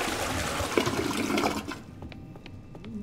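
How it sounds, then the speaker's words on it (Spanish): A toilet flushes in the game Twelve Minutes, a rushing burst of water that drains away after about a second and a half, leaving faint trickling and refilling sounds, with no talk. "¿Podemos hacer uso del inodoro, no?"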